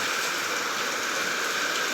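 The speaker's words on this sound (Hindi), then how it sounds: "ये देखिए ऊपर कितनी बारिश हो रही है, देख सकते हैं आप।" Heavy monsoon rain pours down steadily, a dense, even hiss of falling water that continues throughout with no breaks.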